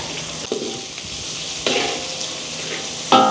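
Onion fries in a pan with garlic while a utensil stirs it, a steady close sizzle broken by a few scraping stirs and clinks against the pan, with no voices.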